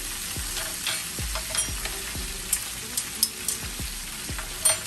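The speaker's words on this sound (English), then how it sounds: "Let's scrape that around in there." Pork chop drippings sizzle steadily in a frying pan while a spoon scrapes across the bottom in repeated sharp strokes, close and moderately loud with no talking.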